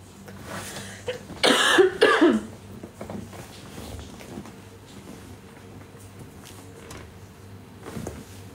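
A person coughs in a quick harsh burst of several hacking coughs close to the microphone, followed by quiet room tone and a faint short sound near the end.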